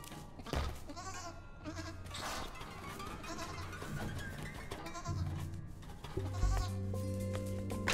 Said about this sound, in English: And a whole bunch of goats.